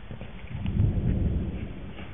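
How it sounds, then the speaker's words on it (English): Thunder rolls as a low, dull rumble that swells and fades during a storm along the Florida Trail at Eglin. The sound is moderately loud and muffled, with no talking. "That's thunder. That was thunder."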